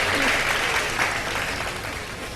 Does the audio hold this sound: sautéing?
no